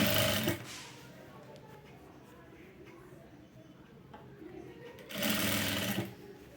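Sewing machine stitching leaf-model piping, running in two loud, fast whirring bursts at the start and near the end, with a quieter pause between them.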